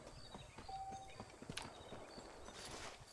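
Horse hooves clip-clop at a walking pace in the Western video game Red Dead Redemption, a near, rhythmic series of hoof strikes over a faint ambient outdoor backdrop.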